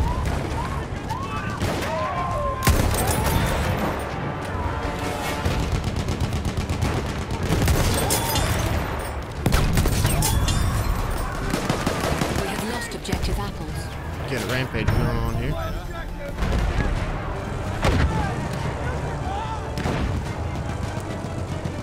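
Battlefield 1 gunfire and artillery booms on a PC match, dense volleys of shots and blasts running throughout with a voice talking over the fighting.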